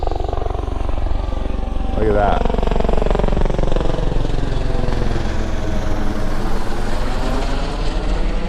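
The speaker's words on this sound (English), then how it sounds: "Check out this helicopter. I think he's gonna fly right above us." Loud helicopter passing close overhead, a rhythmic rotor chop with engine whine that shifts in pitch as it moves; a person speaks briefly over it.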